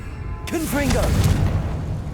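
A Confringo fire spell bursts in Hogwarts Legacy, a sudden booming blast that hits hard and then rolls into a sustained rumbling roar, with a brief voice heard just as the explosion erupts.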